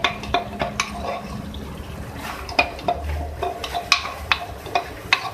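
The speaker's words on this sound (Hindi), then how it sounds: "इस तरीके से इसको फ्राई करेंगे, इसके साथ कुक करेंगे, इसका कच्चापन ख़त्म करेंगे" Ginger garlic paste fried in a karahi for beef namkeen karahi gosht, a soft sizzle under repeated sharp clinks and scrapes of a spoon against the metal pan.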